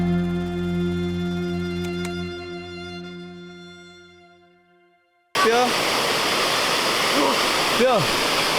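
Sebarau Waterfall pours in a loud, steady broadband rush that cuts in abruptly and continues to the end, following a fading tonal hum.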